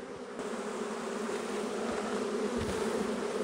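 Honey bees buzzing inside a hollow log hive, a dense steady drone that swells slightly, close and continuous with no talk.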